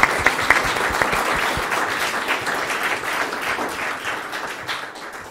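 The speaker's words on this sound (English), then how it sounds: "I think we can give a round of applause to our keynote speaker." Conference audience applauding a keynote speaker, a loud sustained burst of many people clapping that slowly tapers off.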